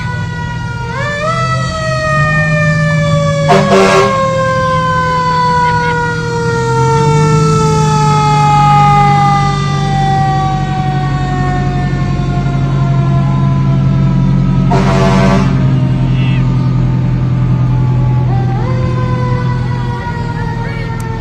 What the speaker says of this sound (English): And blowing their horn behind them, we've got the Complete Auto Repair Service with their fire truck.